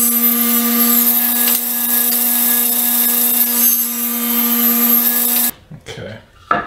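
A power saw rips leftover wood pieces into short 2.5-inch slats, a loud steady whine with a strong hum running about five seconds before cutting off abruptly, followed by quieter shuffling handling noises.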